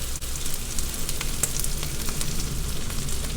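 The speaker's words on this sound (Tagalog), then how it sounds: "Kapag kaluto na yung ating bawang at sibuyas, ilagay na po natin itong ating repolyo" Cabbage sizzles steadily in hot oil with garlic and onion, a close, even frying hiss with faint crackles throughout.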